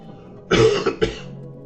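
Coughing from a character in the Fallout 76 video game: one heavy cough followed by a second shorter one, close and fairly loud, with no talk.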